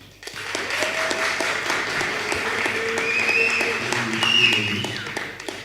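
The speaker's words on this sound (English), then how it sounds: "you must be feeling a little bit warmer just from that applause" An audience breaks into sustained applause to welcome a speaker joining a podcast session online, a steady wash of many hands clapping at moderate level that swells slightly toward the end.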